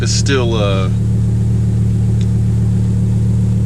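A Lamborghini Huracan with its engine still cold drones steadily while driving on the commute to the office, a constant loud low hum with a brief rising whine at the start.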